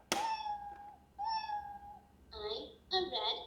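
A red cat crawling baby toy plays its electronic meow sound, giving several short, close, clean meows separated by brief pauses.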